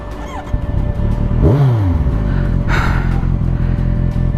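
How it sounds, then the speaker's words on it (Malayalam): A Kawasaki Ninja 1000 with twin exhaust rides along a road toward Munnar, its steady low engine drone rumbling throughout. The pitch swoops down sharply midway as it revs and passes. "നിഞ്ച 1000ൻ്റെ സൗണ്ട് ഭയങ്കര കിടിലമാണ്. ബിക്കോസ് ട്വിൻ എക്സോസ്റ്റ് ആണ്"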